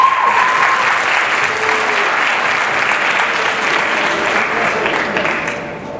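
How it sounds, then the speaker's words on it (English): A large audience at a graduation ceremony applauds loudly and steadily, a dense wash of many hands clapping that holds for several seconds before starting to fade. "Let's give them a round of applause"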